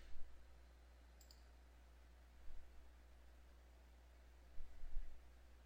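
A few faint, crisp computer mouse clicks sound in a quiet room, spaced several seconds apart over a low steady hum.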